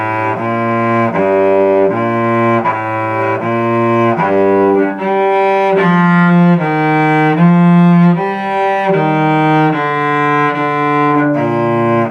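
Piano practice of a position piece called Busy Bees, playing only the first, third, fifth and seventh notes: even, sustained tones stepping through a simple line with low bass notes under them, loud and close, no speech.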